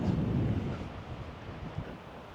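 Low, blustery wind buffeting the microphone, a steady rumble that eases slightly over a couple of seconds.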